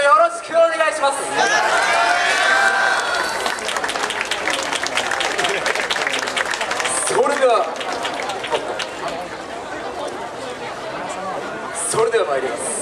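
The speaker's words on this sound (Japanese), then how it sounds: "お手拍子のほどよろしくお願いします" An audience at a yosakoi dance festival in Kyoto claps along, a dense wash of applause and handclaps with crowd chatter and a voice speaking over it, steady throughout.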